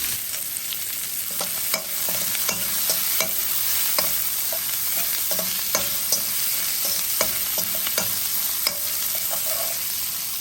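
Garlic and tough pea shells stir-fry in a hot pan, with a steady sizzle under repeated scrapes and clacks of a utensil stirring them.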